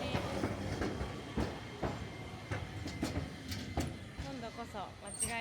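Train at platform 5 of a station in Ehime, with a steady rumble and repeated clicking wheel-and-rail knocks spaced through the clip, fairly close, plus a brief squeal near the end.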